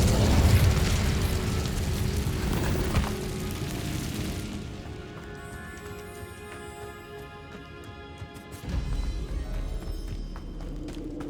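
Incendio fire spell cast in the Hogwarts Legacy video game inside abandoned catacombs: a loud burst of whooshing flame with a crackling roar for several seconds, easing into a quieter hum before another rumbling surge near the end.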